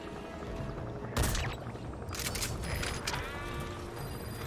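Metal Gear Solid V gunfire comes through as a few sharp, fairly quiet shots spaced over a few seconds, each rising out of a low steady background.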